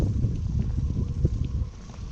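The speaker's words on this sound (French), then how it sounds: "ce vent, on s'en sort pas" Strong wind gusting around a sailboat moored in a harbour near La Napoule, a steady low rumbling roar with buffeting gusts close to the microphone, no voices.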